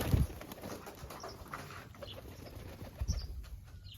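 A pigeon's wings flap as it is flown from a loft rooftop, with soft bursts of flapping over a noisy outdoor background; no one speaks.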